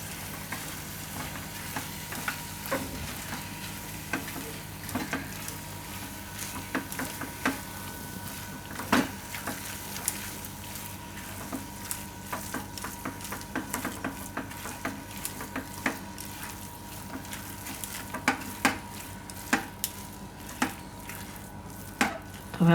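Paneer filling being mixed in a pan, a constant low sizzle with repeated clicks and taps of a spoon against the pan throughout, close and fairly quiet.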